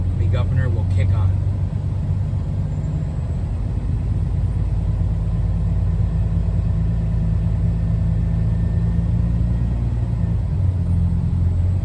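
A truck engine runs at a steady, raised idle of about 1,000 RPM while air pressure builds, a loud continuous low rumble close by that holds unchanged throughout.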